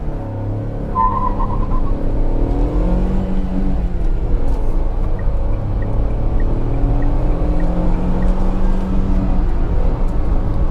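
A Tata Altroz hatchback with a turbo petrol engine running from inside the car, a steady low engine drone with shifting tonal hum as revs rise and fall, heard continuously and fairly loud.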